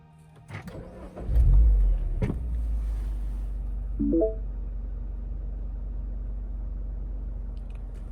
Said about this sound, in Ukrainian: можна виключити запалення і завести автомобіль